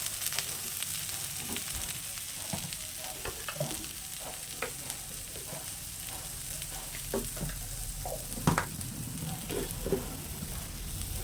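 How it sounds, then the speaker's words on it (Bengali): Food sizzles and fries in a pan before sugar goes in, with a constant hiss broken by scattered pops, crackles and the scrape of stirring, close by with no talk. "আর একটু ভাজা হোক তারপরে চিনিটা দেবো"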